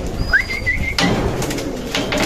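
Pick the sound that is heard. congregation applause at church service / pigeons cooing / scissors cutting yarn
pigeons cooing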